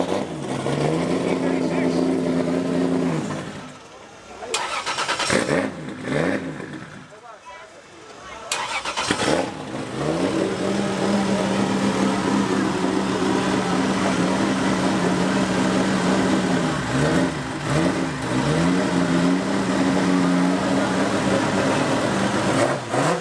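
A battered drift car's engine idles and revs at an event, cutting out briefly and catching again, then settling into a steady drone with rising revs, while a voice talks over it.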